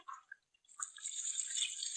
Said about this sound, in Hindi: उसके बाद आप ऊपर से भी थोड़ा इसको पानी डाल दीजिएगा